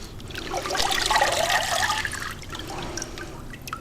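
Water drains and trickles while homemade sandpaper is made, a splashing, gurgling pour swelling for a couple of seconds, easing, then picking up again with a softer dribble, close and fairly loud.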